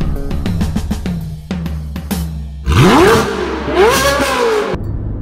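Toyota FJ Cruiser engine, close and loud, with short revs, then a long climbing rev that sweeps up and falls back, no talk over it.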